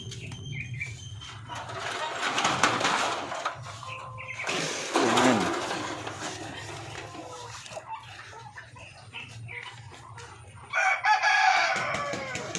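Chicks and chickens in a backyard farm make clucking and crowing calls over rustling and scraping as their bedding is changed, with louder bursts of activity rising and falling close by.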